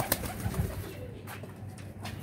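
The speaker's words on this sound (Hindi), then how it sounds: "आपको शौक करवा रहे हैं कामरान भाई के ज़ाक कबूतरों का माशाल्लाह" Pigeons coo softly in a breeder's loft, low murmuring calls against a faint background with a couple of small knocks early on.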